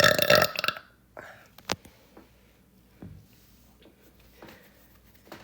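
A loud, long deliberate burp opens the clip, followed by quieter mouth clicks, breaths and small sounds against near silence.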